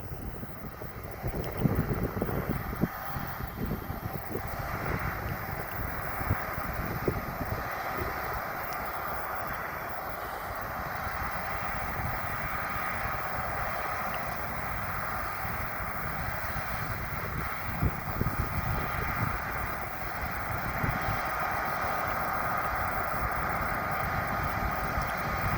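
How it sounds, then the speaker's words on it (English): A John Deere S790i combine harvester cuts winter wheat in a Norfolk field. It makes a steady, broad machine roar with a low rumble, heard from close by and mixed with wind noise, with no one talking. "We have the John Deere S790i"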